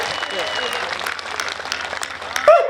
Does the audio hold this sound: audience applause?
yes